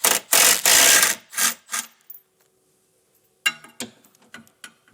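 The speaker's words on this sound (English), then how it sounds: "we'll remove these two bolts with a 17mm socket" Tow hook bolts come off a 2018 Toyota Highlander with a ratchet and 17mm socket: bursts of rapid ratcheting clicks in the first two seconds, a pause, then lighter scattered clicks and metallic taps, close by.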